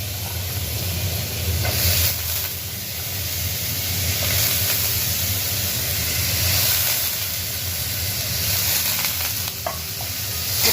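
Cluster beans hit a hot pan and sizzle steadily, with scraping stir strokes and a continuous hiss of frying close by.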